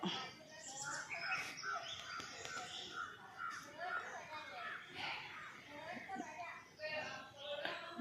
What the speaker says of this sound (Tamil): நிறைய பறவைகளோட சவுண்டும் கேட்டு கேட்டு ரொம்பவே ஹாப்பியாக இருக்கேன்.